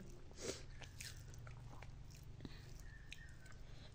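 Someone eats and chews a home-cooked meal of large-cut vegetable curry after a morning in the rice paddy fields. There are soft, close bites and chewing with light crunches over a low background hum.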